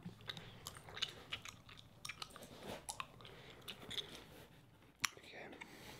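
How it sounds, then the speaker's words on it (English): Quiet, close gum chewing with soft wet clicks and crunchy bites in an irregular rhythm, plus one sharper snap near the end, heard against low background noise. "I don't know if any of you enjoy gum chewing sounds"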